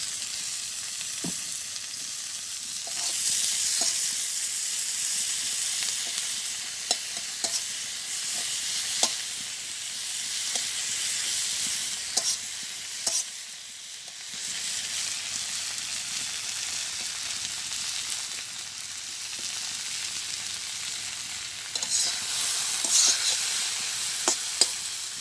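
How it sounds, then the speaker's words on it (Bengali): Yardlong beans (borboti) with turmeric frying in oil in a village kitchen, a steady close sizzle running throughout with occasional clicks and scrapes of stirring. "সুন্দর করে ভাজি করে নিচ্ছি।"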